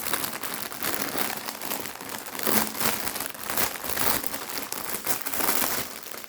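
Crinkly plastic wrapping rustles and crumples in close, busy bursts as a parcel from a Warrior Cats shop is opened, with no talking.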